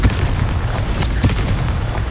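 A Confringo blasting spell detonating in Hogwarts Legacy, a loud, dense booming explosion that roars continuously for about two seconds, with a few sharper bursts inside it.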